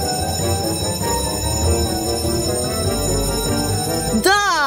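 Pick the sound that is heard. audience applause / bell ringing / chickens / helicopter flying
bell ringing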